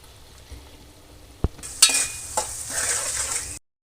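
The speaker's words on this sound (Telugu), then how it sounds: "ఇప్పుడైతే పచ్చిమిరపకాయలు వేసుకుందాం. ఆనియన్స్ మగ్గడానికి కోసం తగినంత ఉప్పు." Onions with turmeric, green chillies and salt in a pan: quiet at first, a metallic clink, then a sudden burst of sizzling as ingredients go in, followed by stirring and steady frying before an abrupt cut.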